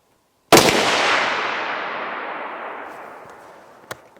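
A single sharp rifle shot at a target shooting session cracks loudly close by and rings out in a long decaying echo, followed by a faint click a few seconds later.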